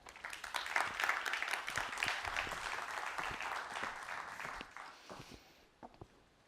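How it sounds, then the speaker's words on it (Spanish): An audience at a Spanish semiconductor sector conference applauds a speaker: dense, sustained clapping from many hands that swells early and then tapers off near the end, with a few footsteps. "Un aplauso para él."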